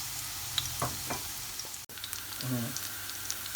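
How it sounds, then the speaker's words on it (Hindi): Soft, steady frying hiss of onions in oil with a few faint clinks and scrapes, close and quiet. "तो पहले प्याज हल्की सी लाल होने लग जाएगी"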